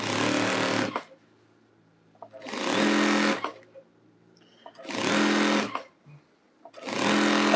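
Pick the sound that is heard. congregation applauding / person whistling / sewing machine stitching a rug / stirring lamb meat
sewing machine stitching a rug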